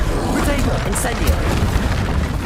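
An Incendio fire spell bursts in Hogwarts Legacy combat, a loud whooshing boom with crackling flame amid ongoing battle effects and a voice calling out.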